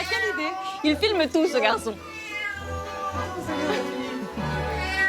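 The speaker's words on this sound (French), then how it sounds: "non, c'est le chat qui miaule." A cat meows several times in drawn-out, wavering cries, loud and close, overlapping with people chatting in French.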